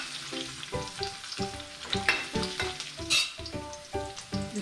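Coconut pieces sizzle and crackle steadily in hot oil in a pan in a Kerala home kitchen, with irregular scraping and clinking from stirring over the continuous fry.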